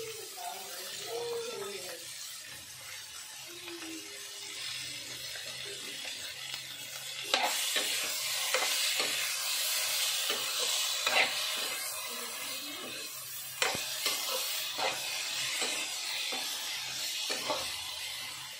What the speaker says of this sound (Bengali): এবার আমি সর্ষে আর লঙ্কা বাটাটা দেবো